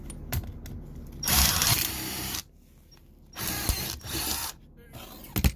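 An angle drill runs in two loud bursts separated by a quiet pause, with clicks and mechanical clatter between, close by, while drilling rivet holes on a Monaco RV slide-out.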